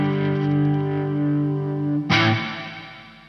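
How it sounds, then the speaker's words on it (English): An electric guitar through a SONICAKE Levitate pedal on plate reverb holds a sustained chord with a metallic shimmer, then a fresh strum cuts in sharply and rings out into a bright, decaying wash; no speech. "It's a plate reverb, I would guess, that the kind of metallic sound"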